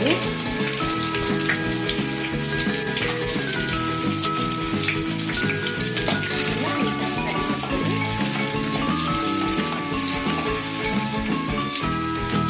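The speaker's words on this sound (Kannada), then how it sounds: "ಈರುಳ್ಳಿ 3 ಸಣ್ಣ ಕಟ್ ಮಾಡ್ಕೊಂಡಿರುವಂಥದ್ದು ಹಾಕೊಂಡು ಫ್ರೈ ಮಾಡ್ಕೊಳ್ಳಿ." Fennel, green chillies, garlic and onion frying in a pan give a dense, steady crackle like rain under a sustained hum. The sound is close and continuous, with no talk.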